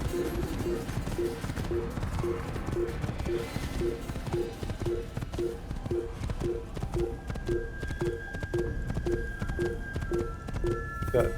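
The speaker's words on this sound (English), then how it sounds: "You got nothing on me when I'm running over you with my horse" Horse hooves gallop in steady, rapid clip-clop beats throughout the Assassin's Creed video game, close and continuous over a busy game soundscape, with a faint whinny-like tone and no talking.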